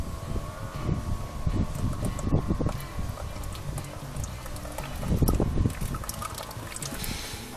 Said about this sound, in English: Drain gearbox oil.